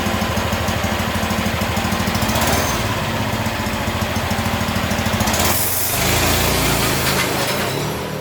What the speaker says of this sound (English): 420cc mower go-kart, I guess. Deere kart. Let's check out the launch.